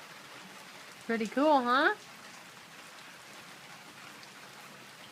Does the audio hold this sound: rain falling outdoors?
yes